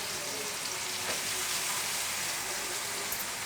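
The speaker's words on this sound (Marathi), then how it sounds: "तेल तापल्याच्या नंतर यामध्ये आपण जिरं घालूया, त्यानंतर हा बारीक चिरलेला कांदा" Finely chopped onion and tomato, with cumin seeds, frying in hot oil in a pan for masala vada pav; a steady, dense sizzle runs throughout, close and even, with no talking.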